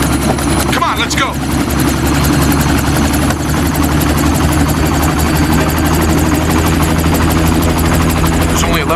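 A helicopter flying, its loud, steady rotor thrum and engine drone filling the whole stretch without letting up, with faint voices under the noise.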